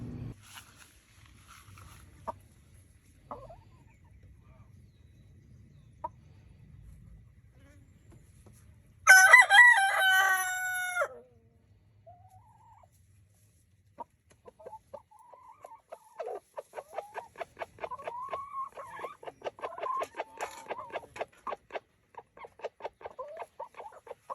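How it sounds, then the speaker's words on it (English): A rooster crows loudly once, then chickens cluck in a steady series of short, soft calls against a quiet outdoor background. "So we're gonna go see how much the chickens love it."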